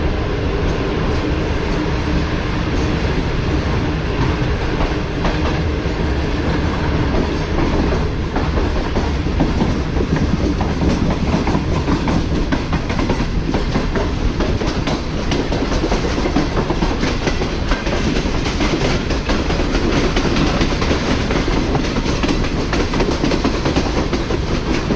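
Tezgam passenger train rolling along the track between Multan and Lahore, with a steady, loud clickety-clack of wheels over rail joints and constant carriage rumble throughout, no talking.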